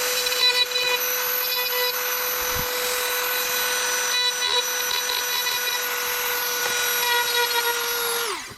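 A cordless power tool runs at a steady high whine for several seconds, grinding metal out of a 2011 Subaru Legacy car door lock actuator, loud and close, then winds down at the end.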